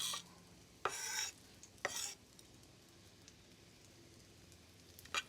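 Food being stirred in a pan while preparing jalapeño popper-stuffed mushrooms, with two brief scraping swishes close by and then a quiet stretch with faint sizzling and small clinks.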